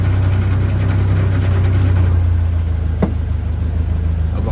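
Land Rover Lightweight engine idling just after starting, a steady close, low rumbling chug with a faint brief click partway through, no talking.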